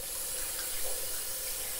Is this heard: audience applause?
no